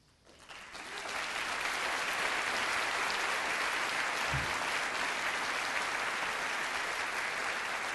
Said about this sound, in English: Yeah, you're applauding.